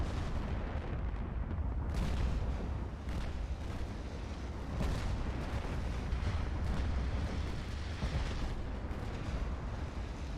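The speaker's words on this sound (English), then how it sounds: "18-inch guns coming through on that." Heavy 18-inch naval guns thunder in a warship battle game, a steady barrage of deep booming salvos and rumbling blasts rolling one after another, loud and close with no talk.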